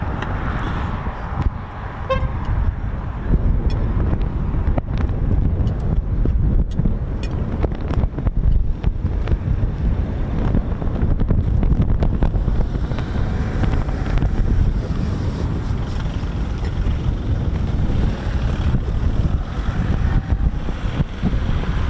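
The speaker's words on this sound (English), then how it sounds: "Breezy, Ted, bit breezy, mate, bit breezy." Wind buffets the microphone at RAF Coningsby airfield, a loud, continuous rumbling roar lasting throughout with steady gusting texture and no speech.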